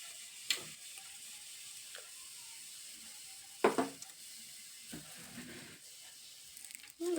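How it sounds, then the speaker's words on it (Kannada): Cumin and mustard seeds dropped into hot oil in a village-style kitchen crackle with a faint sizzle, punctuated by a few sharp pops and short bursts of seed spatter throughout. "ಎಣ್ಣೆ ಕಾದೈತಿ. ಅದಕ್ಕೆ ಸ್ವಲ್ಪ ಜೀರಿಗೆ ಹಾಕ್ಕೊತೀನಿ, ಅಲ್ಲಿ ಸಾಸಿವೆ ಹಾಕ್ಕೊತೀನಿ"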